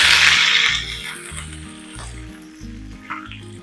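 Mustard seeds, dried red chillies and curry leaves crackle in hot coconut oil, a Kerala sambar tempering, with a loud hiss at first that settles into a steadier, softer sizzle.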